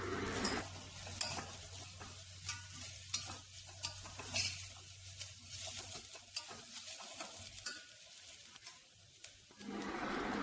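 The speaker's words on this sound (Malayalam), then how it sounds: "അതിലേക്ക് 2 ടീസ്പൂൺ ചിക്കൻ മസാല കൂടി ചേർത്ത് നന്നായിട്ട് ഇളക്കിയെടുക്കാം" Chicken masala stirred into an onion-tomato mixture frying in a pan, with a steady close sizzle, repeated spoon scrapes and light clinks against the metal, no talking.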